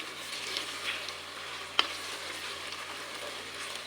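Chicken frying in a pan makes a steady, even sizzle from start to end, with one brief sharp clink partway through.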